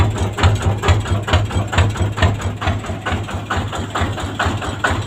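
A small Kubota RT140 single-cylinder diesel tractor engine idles close by with a steady, rapid low chugging pulse and a rattly mechanical knock, running evenly throughout with no talk.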